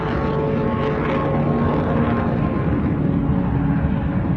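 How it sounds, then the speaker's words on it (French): Steady, loud engine and airflow roar inside the cabin of an old Boeing 737 airliner in flight, a continuous broadband drone with low hum and no pauses. "Le vieux 737 est bruyant et les vibrations sont importantes"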